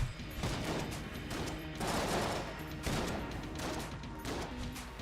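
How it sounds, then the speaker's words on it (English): Video game gunfire from repeatedly fired Little Bomber shots: rapid bursts of sharp shots and crunchy explosions come in waves, loud and close, with mechanical clatter between them. "I may just spam Little Bomber shots, hoping that the explosions will help me survive a little bit."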